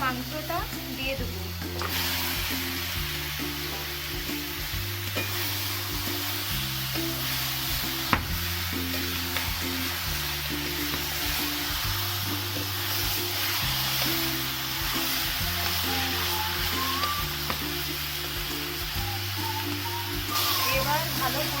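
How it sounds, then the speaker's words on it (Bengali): Free-range country chicken coated in ginger, garlic, onion and chilli pastes frying on a clay wood-fired stove, a continuous close sizzle with stirring and a repeating low droning pattern underneath, a voice talking over it. "এবার ভালো করে ভেজে নেব। আর একটি কথা, এই মাংসটা কিন্তু আমি উনুনে করছি"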